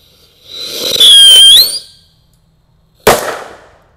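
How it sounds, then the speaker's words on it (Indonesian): Two firework rockets lit inside a hole in the ground: a loud rising whistling squeal for about a second, then a few seconds later a sharp bang with a trailing crackle. "ini roket pirotar. Kita nyalakan 2 sekaligus ya di dalam lubang tanah"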